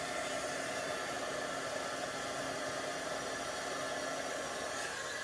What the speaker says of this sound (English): Okay, now let's take the heat gun. It's gonna get noisy